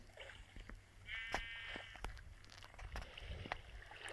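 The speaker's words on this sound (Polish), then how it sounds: "Widzę, że owca też tutaj wpadła." A single wavering Minecraft sheep bleat rises briefly among scattered clicks and light background noise.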